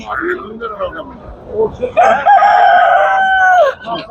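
A rooster crows once at a poultry market, loud and drawn out, after someone talks; the crow rises and holds steady before trailing off.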